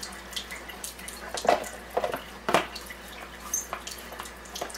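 Water runs steadily from a Kangen water machine at its 9.5 setting, a soft continuous trickle with a few faint splashes and drips, fairly quiet and with no talking.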